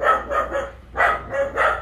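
Dogs bark at a house front garden in a rapid burst of about six sharp, loud barks at close range, with brief gaps between them.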